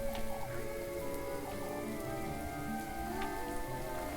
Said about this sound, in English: At least it's just kind of been out in what is presumably the cold rain.